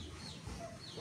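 Domestic chicken clucking softly close by, a short low murmuring run of clucks over steady background noise, with no talking.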